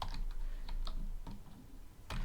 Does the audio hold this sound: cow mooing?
no